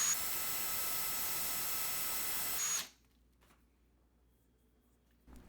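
A knob from an antique Sony 6RC 23 AM clock radio is worked with finer grit on a powered tool, a steady loud hissing whir lasting nearly three seconds before stopping abruptly, followed by quiet with faint bumps.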